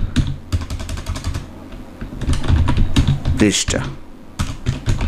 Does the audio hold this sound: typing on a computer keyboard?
yes